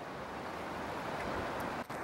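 A river rushes in a continuous broadband roar, steady and fairly close, with a brief dip near the end and no voices.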